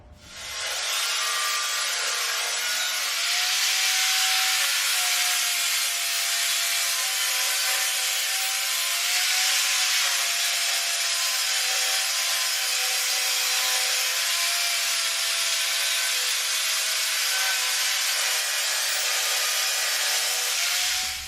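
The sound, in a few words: grinding down welds on car fenders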